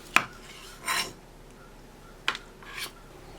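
A knife slicing avocado on a cutting board, two pairs of sounds each made of a sharp tap followed by a short scraping slice, close and fairly quiet with no talk.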